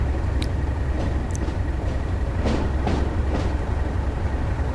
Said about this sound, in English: Love these old locomotives.